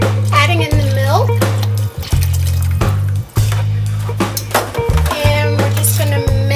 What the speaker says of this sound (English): So, adding in the milk,